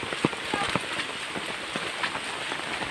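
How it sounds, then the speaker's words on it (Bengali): Heavy rain pours down on a village path through a forest, heard from under an umbrella as a dense, continuous hiss and patter with scattered louder drops and thuds. "প্রচুর বৃষ্টি হচ্ছে।"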